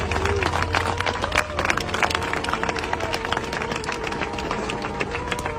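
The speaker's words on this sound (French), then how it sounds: "Vous pouvez d'abord vous applaudir pour ça." Crowd of farmers at a French agricultural gathering clapping steadily and continuously, a dense close applause with some voices mixed in.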